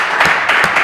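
Loud, close applause from a gathering, a short burst of clapping with a few distinct sharper hand claps standing out over the steady patter.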